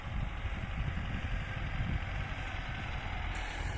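An MTZ tractor engine running on a sloping field, a steady mid-pitched rumble held close and loud for a few seconds without speech.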